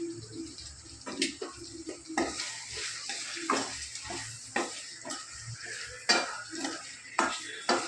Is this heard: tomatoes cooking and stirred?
yes